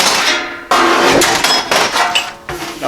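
Hammer striking a 1/4 inch hemmed steel edge on a steel surface while folding it flat for a hot rod truck storage box, several loud ringing metallic blows in an uneven rhythm, close up.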